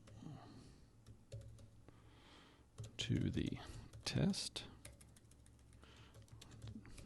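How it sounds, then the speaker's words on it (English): Typing on a computer keyboard, a quiet run of soft clicking keystrokes with a couple of louder bursts in the middle, and a voice speaks briefly partway through. "Sorry about my typing."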